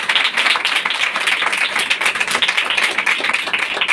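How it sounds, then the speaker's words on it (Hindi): A church congregation claps in praise to God, producing a dense, steady roar of many hands that stays loud and even from start to finish, with no talking over it. "खुदा के लिए ताली बजाए"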